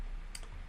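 One short, faint computer mouse click against a quiet background hiss.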